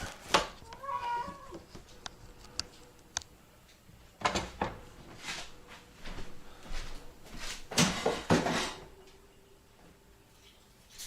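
Cat meowing in a kitchen, a short mewing call near the start followed by assorted clicks, knocks and rustles, fairly faint, with a person talking now and then.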